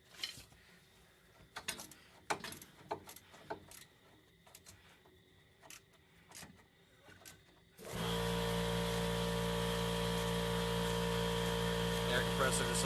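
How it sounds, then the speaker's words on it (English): An air compressor in a garage kicks on during a rear brake job on a 1983 DeLorean, a sudden loud, steady motor drone that fills the sound after scattered clinks of tools and talking. "Air compressor decided to kick on."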